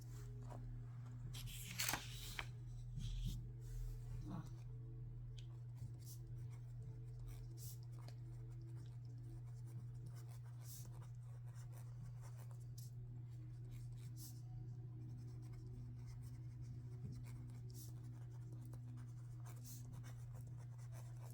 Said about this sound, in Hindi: तो यहाँ पे मैं स्टेप्स लिख देती हूँ